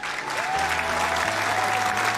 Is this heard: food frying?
no